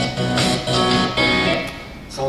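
A dense music sample with chunks cut out, playing loudly in segments broken by short silent gaps that give a choppy, stuttering effect.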